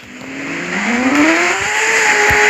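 A sports car in sport mode in the video game Taxi Sim 2022 accelerates hard, its engine tone climbing steadily in pitch through the gears, loud and continuous with a faint tire hiss.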